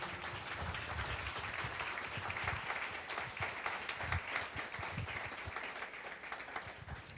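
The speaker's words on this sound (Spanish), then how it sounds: "Yo pido un aplauso para la Santísima Virgen María" A church congregation applauds for the Holy Virgin Mary in a sustained, dense wash of clapping at moderate volume, steady for several seconds without clear speech.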